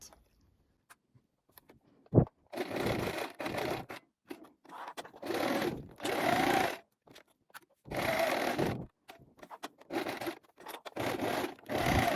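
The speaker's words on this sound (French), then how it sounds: "Donc vous allez coudre à 1 cm tout autour en laissant une ouverture à peu près de 5" A sewing machine stitches a 1 cm seam around a fully lined jacket, running in short bursts of broadband whirring separated by brief pauses, close and fairly loud.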